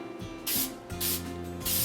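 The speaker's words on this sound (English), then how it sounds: "I'm going to go ahead and just spray a quick coat on it just to keep our glitter from" Three short hissing bursts from an aerosol can lay a quick coat of polyacrylic sealant over a glitter tumbler, each spray loud and close, with soft mechanical clicks between.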